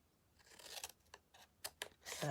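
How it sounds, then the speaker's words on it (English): Scissors snip through paper card in a few quiet, separate cuts, close and soft against a silent background. "And just cut this with scissors."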